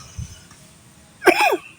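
A single short, harsh cough bursts out after a moment of near quiet, close and fairly loud.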